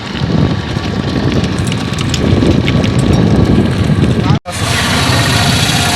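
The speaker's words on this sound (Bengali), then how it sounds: "কি যে শান্তির বাতাস দিচ্ছে" Wind buffets the microphone as a breeze rushes past while riding in an open van, a loud, constant roar with rumbling movement underneath, broken by one brief cut near the end.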